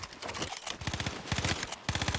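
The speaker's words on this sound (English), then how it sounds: "They're shooting someone to the left, though." Rapid bursts of automatic gunfire from a Fortnite Chapter 5 match, dense and overlapping in quick succession, fairly close and loud with no voices over it.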